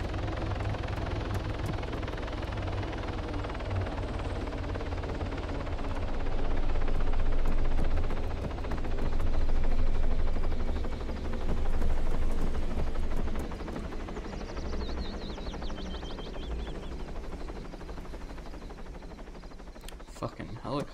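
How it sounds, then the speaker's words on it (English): Loud helicopter rotor roar swells and fades as it passes overhead, with voices speaking over the constant whirring drone. "Fucking helicopter just flew right over my house."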